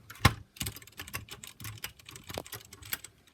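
Rapid, uneven typing on an RK61 Royal Kludge 60% mechanical keyboard, close and crisp clacks in quick bursts with no talk.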